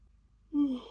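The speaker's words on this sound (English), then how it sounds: "Yawning already." One person lets out a single short yawn: a quiet moment, then a sudden voiced, drawn-out breath that falls in pitch and fades. It is close and fairly loud, with no talking.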